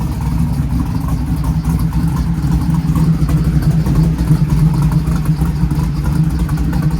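A 1979 Chevrolet Malibu with a swapped-in LS engine and small camshaft idles steadily nearby, a loud continuous low rumble with a slight exhaust leak.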